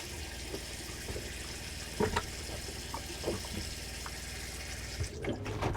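Water runs from an RV faucet in a steady broadband rush, with a few brief knocks and clunks of handling along the way and a louder splash near the end.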